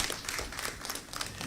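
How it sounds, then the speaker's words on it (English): A conference audience at a financial inclusion dialogue series applauds, a dense, steady wash of clapping from many hands filling the room for over a second, with no talk over it. "A round of applause for them, please."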